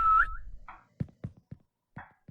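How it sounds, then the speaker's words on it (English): A whistle plays in an Unreal Engine 5 game: a short, rising tonal whistle at the very start, followed by a few soft, separate thuds spaced through the quiet that follows. "Let's make a whistle."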